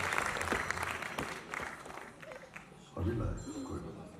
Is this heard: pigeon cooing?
no